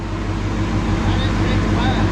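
A supercharged 2019 Ford Mustang GT with a VMP Odin supercharger roars steadily on a dyno, a loud continuous low engine drone with a faint whine, under people talking.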